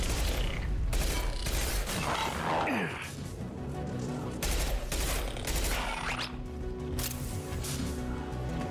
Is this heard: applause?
no